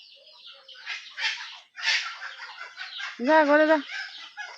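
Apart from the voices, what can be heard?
chickens fighting and flapping on a roof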